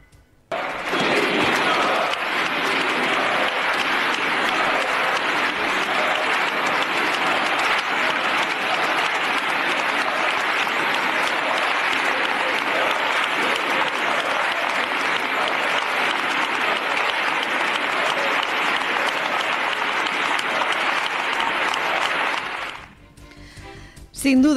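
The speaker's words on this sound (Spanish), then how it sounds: "escuchen la sonora ovación del Partido Socialista y de sus socios en el Congreso a José Luis Ábalos" A long, unbroken ovation in the Spanish Congress for José Luis Ábalos, dense applause from a large chamber holding steady and loud before tapering off at the end.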